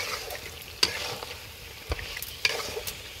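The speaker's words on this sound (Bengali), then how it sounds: "নেহা মাংসটা এত সুন্দর করে কষাইতেছে" Spiced meat for tehari is stirred and fried in a pot on a home stove, giving a soft continuous sizzle broken by a few sharp scrapes and clanks of the spoon against the pan.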